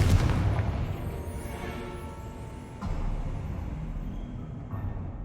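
A spell blast from the Confringo curse in Hogwarts Legacy, a deep booming burst at the start that rumbles and fades, with a second thud near the three-second mark and a low roar sustained throughout.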